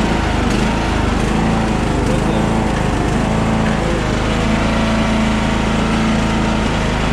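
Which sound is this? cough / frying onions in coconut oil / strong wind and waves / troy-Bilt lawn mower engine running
troy-Bilt lawn mower engine running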